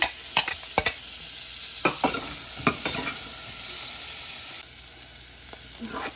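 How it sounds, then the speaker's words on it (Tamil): Small chopped onions fry in melted butter, giving a continuous hissing sizzle at close range. Several quick clacks and scrapes from stirring stand out early, and the sizzle eases slightly near the end. "வெங்காயம் இப்போ பொரிஞ்சு கொண்டு இருக்குது"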